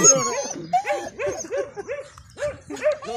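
A dog barks repeatedly up close in quick, uneven yips and short barks with whimpery edges, a rapid irregular string of calls and no talking.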